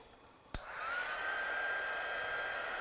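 A hair dryer switches on with a sharp click and then runs steadily at close range, blowing a continuous whoosh with a thin whine over wet paint on an art project, with no talking.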